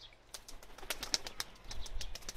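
Home-bred pigeons of one family, a mated pair with their young, give soft scattered chirps and brief rustles at close range, with low coos and faint movement underneath, steady and unhurried.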